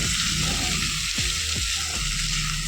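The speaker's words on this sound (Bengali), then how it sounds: "দিয়ে চিংড়ি মাছগুলোকে দিয়েও একটু এর সাথে কষিয়ে নেবো।" Prawns are sautéed in a pan with curry masala for an ol and potato dalna, a loud, dense, continuous sizzle with a few soft spatula scrapes under it.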